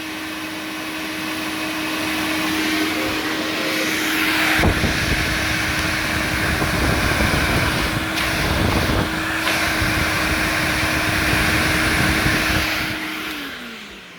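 An Electrolux Twin Turbo 2 Super Z1070A bagged upright vacuum cleaner runs continuously, a loud, close, steady motor roar with a constant whine that swells slightly midway and eases off at the end.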